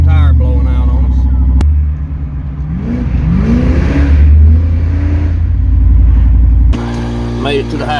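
A Ford Mustang with a 363 stroker engine revs and accelerates down the road, its deep rumbling note rising and falling through gear pulls, heard loud from inside the car with voices talking over it.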